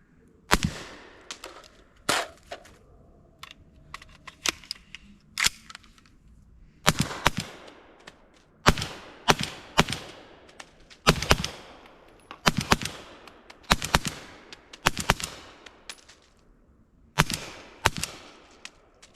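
A PSA Jakl rifle chambered in 300 Blackout fires sharp, single cracks outdoors. The shots come in irregular runs with short gaps between them, and faint clicks and handling noises sit between the reports.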